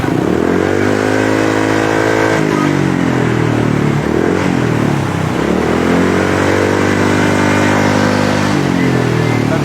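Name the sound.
motorcycle engine revving with chambered power pipe exhaust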